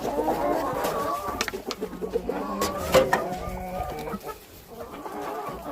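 Several chickens eating boiled grain cluck and murmur close by in a steady, busy chatter, with a few louder squawks rising out of the flock.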